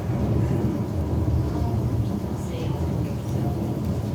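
Steady, dense roar of heavy rain and rumbling thunder from a staged thunderstorm in Disney's Carousel of Progress show at Magic Kingdom, continuous and fairly loud throughout with no clear breaks.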